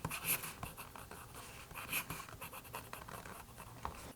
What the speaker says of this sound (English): I'm just going to sign these books all day